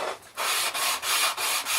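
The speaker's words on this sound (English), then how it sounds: "sand it by hand, believe it or not" A sign is sanded by hand in four or five brisk back-and-forth strokes, each a loud, close, raspy scrape separated by short pauses.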